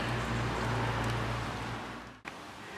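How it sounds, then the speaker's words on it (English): Heavy rain pours down steadily around a garage during a rear spring replacement on a Nissan, a dense continuous hiss with a low hum beneath it, then a brief cut near the end. "it's now chucking it down with rain"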